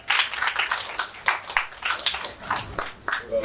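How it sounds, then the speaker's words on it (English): An event audience claps for a speaker, a small scattered round of distinct hand claps in uneven bursts that rise and fall, fairly close and moderately loud, with no voices over it. "please give back a round of applause to Pranav Seth"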